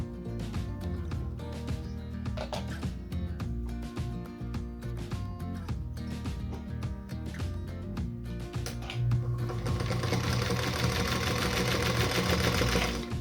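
Sewing machine stitching a star quilt block, a rapid steady mechanical chatter that runs continuously and grows slightly louder and busier toward the end.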